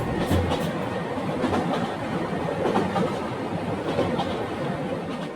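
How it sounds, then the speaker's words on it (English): A train passing, a steady loud rumble with rattling clickety-clack from the wheels, close by and continuous throughout. "Train."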